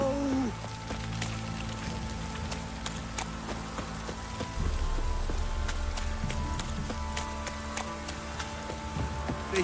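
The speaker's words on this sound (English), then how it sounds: "This downpour's a bastard, it is." Steady downpour in The Witcher 3 hisses as a broad, even wash of rain, with scattered drops and faint hoof-like knocks underneath, constant and fairly quiet throughout.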